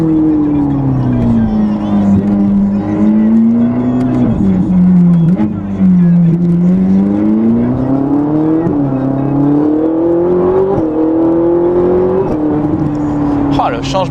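A Ferrari 458 Italia engine pulls hard through the gears on a mountain road, its loud, close drone rising and dropping with each shift while people talk over it inside the car.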